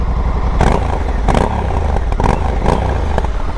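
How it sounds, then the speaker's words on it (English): A nearby twin-cylinder Honda Africa Twin Adventure Sports motorcycle engine rumbles loudly with a grunty exhaust note, several short throttle blips rising above its uneven, pulsing idle. "It has that grunty exhaust note."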